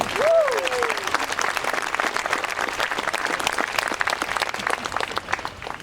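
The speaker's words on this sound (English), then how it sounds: "One more round of applause for that band" Sustained applause from a crowd of spectators at a 2023 Memorial Day parade, honoring a band; steady broadband clapping fills the whole stretch at moderate distance, with a brief whistle-like cheer near the start.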